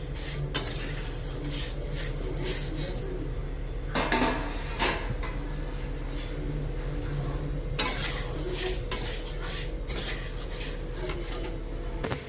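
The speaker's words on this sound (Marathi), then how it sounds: "गहू पण चांगले लालसर भाजून घ्यायचे।" Wheat grains dry roasting in a pan, heard as repeated scraping and rattling of a spatula against metal with grains shifting, close by, with a low steady hum underneath.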